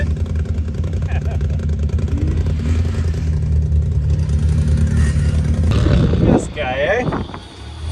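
A 4x4 truck with a broken exhaust revs hard at a Michigan drag race, a loud, steady low engine roar for about six seconds before a brief surge and fade, with people talking over it.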